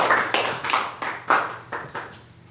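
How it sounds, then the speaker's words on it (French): A church congregation claps in several uneven bursts, sharp broadband hand claps rising and fading roughly every half second, fairly close and moderately loud, with no talk over them. "Et nous allons applaudir, s'il vous plaît."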